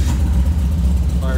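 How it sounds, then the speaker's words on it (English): A Merlot 356 Speedster replica's engine is started with a key turn and runs with a steady, loud low rumble throughout a short burst, with no clear cranking break. "I'll start it up. Actually start just with the turn of the key."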